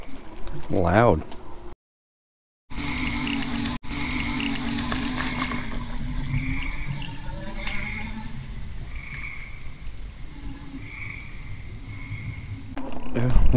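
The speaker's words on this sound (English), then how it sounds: "A lot of bugs." Insects chirp and buzz in a steady nighttime chorus along an off-road trail ridden on a Yadea Trooper 01 fat-tire electric bike, with brief high trills repeating over a continuous low rumble, a short dropout near the start.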